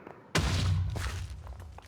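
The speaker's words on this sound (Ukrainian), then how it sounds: "Ну, непогано такий вибух." A lava TNT explosion in a video game bursts suddenly with a loud, broad blast, then rumbles and decays over about a second and a half.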